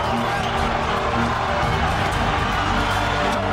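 Boxing arena crowd roaring steadily as fighter Tapia whips them up, a dense, continuous wash of cheering and shouting that fills the space without letting up.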